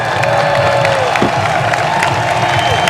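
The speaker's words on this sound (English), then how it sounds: "A large ovation from the crowd." A large stadium crowd gives a steady, loud ovation for a US soccer player leaving the field, with sustained cheering and clapping that wash over a faint commentary voice.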